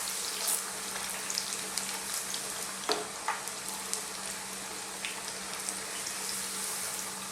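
Small chicken popcorn pieces fry in hot oil with a steady, dense sizzle and crackle, punctuated by a few sharper pops and light stirring clicks, close and continuous throughout.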